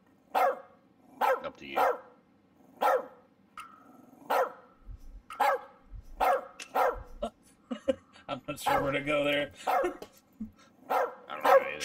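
A dog barks repeatedly in the video game As Dusk Falls, a steady run of sharp, close barks roughly every half second to second, with people talking over and between them.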